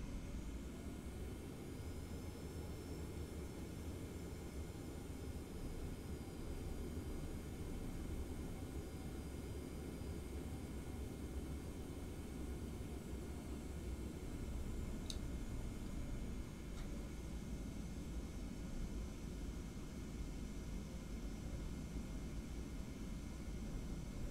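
Boeing 737-700 engines in the P3D flight simulator game, a steady low jet roar with a faint high whine, constant and moderately loud throughout, no talking.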